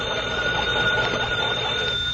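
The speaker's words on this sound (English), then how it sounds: "I turn this little crank here. Yes, ring it long and loud." A crank telephone bell rings steadily and loudly for about two seconds, one continuous metallic jangle with no pauses.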